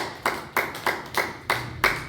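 A church congregation claps in a steady rhythm at a weekday service, seven crisp, evenly spaced claps close by.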